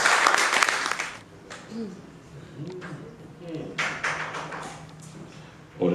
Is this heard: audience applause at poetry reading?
yes